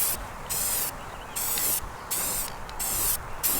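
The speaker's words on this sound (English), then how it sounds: "Just some black spray paint." Four short bursts of black aerosol spray paint hissing from a can onto a car intercooler, each lasting under a second, separated by brief pauses.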